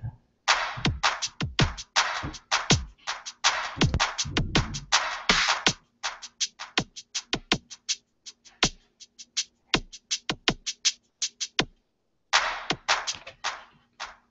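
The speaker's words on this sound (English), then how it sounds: "So if I put a high pass filter on it, it'll sound like this." A thin, bright drum pattern with crisp hits and little low end, playing in bursts with short pauses and a brief silent gap near the end.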